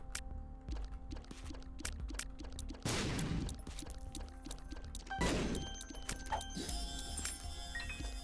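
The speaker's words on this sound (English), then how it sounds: "I was trying not to blow up the donation machine" In the video game The Binding of Isaac, a bomb blows up a donation machine. Two loud, crashing blasts ring out a few seconds apart over busy game music and effects.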